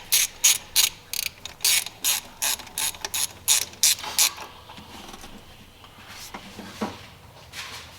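A ratchet or driver tightens a hose clamp on an S&B air filter on a second-generation Dodge Cummins, a quick run of crisp, rhythmic clicks close up, followed by quieter, sparse mechanical clicks.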